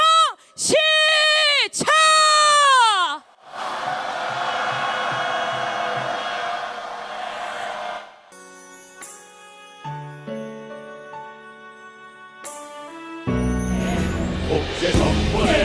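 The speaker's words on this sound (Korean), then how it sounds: "주권과 평화를 원하는 여러분들의 함성" A crowd roars and shouts for several seconds at an outdoor rally against joint US–South Korea military drills, held for the 80th anniversary of liberation. Rising whistle-like tones come before it, and instrumental music follows.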